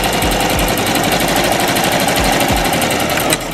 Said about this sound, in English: I'm gonna go ahead and backstitch a bit. And then one straight strip all the way down.